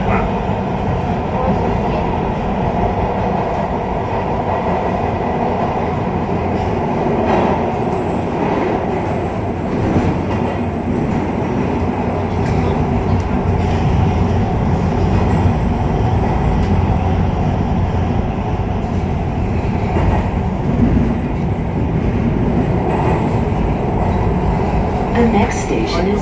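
A MARTA Red Line subway train runs steadily with a continuous loud rumble and rattle, heard from inside the car for about half a minute.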